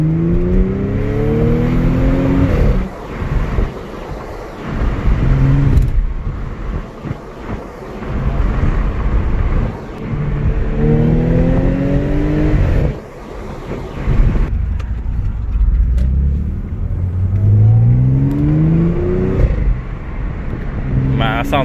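Supercharged Audi S5 B8.5 V6 fitted with an Injen cold air intake, revved repeatedly in bursts with rising supercharger whine, loud and close, with people talking between revs.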